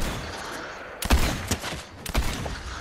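Gunfire in a VR team shooter game, with a few sharp bursts of shots and single cracks over a steady background of game noise. Shots land around the middle and late parts of the clip at moderate loudness, with no clear talk.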